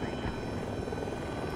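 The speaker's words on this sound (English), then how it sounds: "Our scout chopper doesn't realize he's there." Scout helicopter in the video game Battlefield 2042, a steady loud rotor and engine roar filling the whole stretch, with faint voices mixed underneath.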